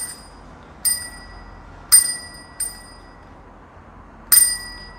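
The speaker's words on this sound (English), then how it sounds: "Okay, the bell is on." A newly fitted bell on a folding bicycle rings five times in an uneven pattern, each ding sharp and bright with a short ringing decay, close by and alone over faint background noise.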